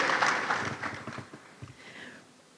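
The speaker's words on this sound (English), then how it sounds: "A round of applause one more time for" A conference audience claps for a presenter at an international e-learning event, a burst of moderate applause that thins out and fades over a couple of seconds.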